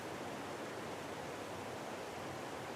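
Waterfalls roar on the Rennebu map in Farming Simulator 22, a steady, even rush of falling water that stays constant throughout with no other sounds.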